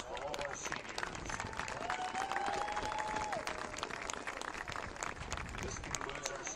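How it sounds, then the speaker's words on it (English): Crowd at a high school football senior night applauding the seniors, dense clapping and cheering throughout with a whistle-like tone rising briefly in the middle. "Let's give them one final round of applause for all our seniors."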